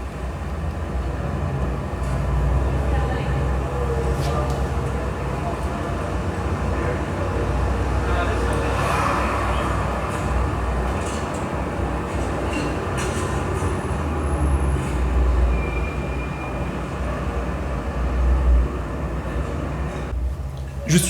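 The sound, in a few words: street sounds from a video of driving in Los Angeles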